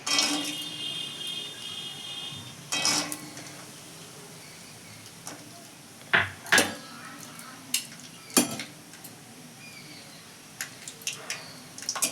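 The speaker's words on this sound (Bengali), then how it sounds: "তেলটা গরম হয়ে গেছে, এবার আমি দিয়ে দিচ্ছি কাঁচা বাদামগুলো" Raw peanuts frying in hot oil in a village kitchen, a low, steady sizzle broken by sharp metallic clinks and scrapes of a spoon stirring against the pan.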